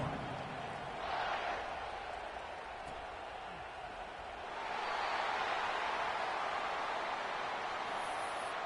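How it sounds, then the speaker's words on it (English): Diffuse stadium crowd at a college football game, Florida State at Texas, buzzing as a broad distant roar that swells noticeably halfway through and stays up, with no clear individual voices. "this crowd is buzzing after that last score"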